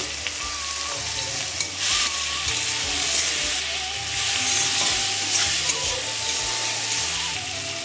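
Chopped tomato with salt and turmeric fries in a pan for an egg curry, a continuous close sizzle with occasional scraping stirs.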